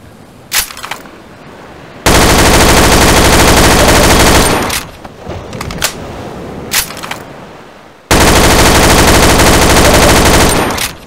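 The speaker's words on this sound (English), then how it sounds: "Shooting at it until it breaks." Sustained bursts of automatic gunfire in Garry's Mod blast away at an object, loud and close, with two long volleys separated by scattered single shots and clatter.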